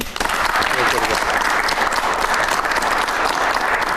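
Loud, steady applause from a large television studio audience, continuous throughout with dense clapping and no pauses.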